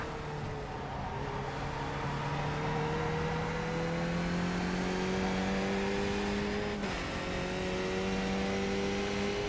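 Race car engine in a sim racing game holds a steady, loud drone that climbs slowly in pitch over several seconds, briefly dips near the end, then resumes its smooth rising whine.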